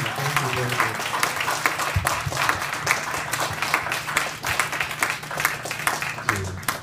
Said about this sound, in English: Please give a round of applause to David Pearl.